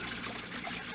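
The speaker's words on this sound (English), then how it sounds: "Most ingenious, my fountain. Costs so little to run because it uses the same water" Continuous splashing and trickling water from a recirculating fountain in an old suspense radio drama, a dense, steady pour heard briefly and fairly loud with no voices.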